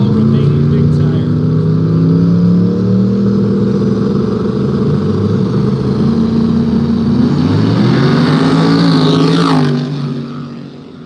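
Big tire class drag cars, including a black nitrous car and a Malibu, launching side by side at a no-prep race, loud sustained engine roar with rising revs for about ten seconds before dropping off, with an announcer talking over it.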